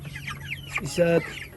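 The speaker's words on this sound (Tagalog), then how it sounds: "kalalaki na yung mga sisiw ni Tatay Rod, no?" Chickens and growing chicks cluck in a coop, soft scattered calls building to one louder sustained squawk before fading, with faint background noise.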